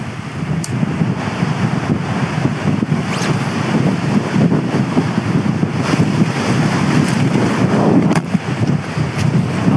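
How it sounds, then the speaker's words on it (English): Strong wind buffets an island shore in a storm, a loud continuous roar of gusts battering the microphone with rushing surf beneath, steady throughout with a few sharper gust peaks. "That bloody wind's gone up, hasn't it?"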